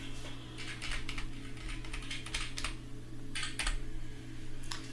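Keys rattle on a computer keyboard during work in the Unreal Engine 4 editor. Short clustered bursts of fairly close keystrokes sit over a constant electrical hum, with no talking.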